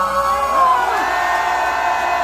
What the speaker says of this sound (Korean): 함성 발사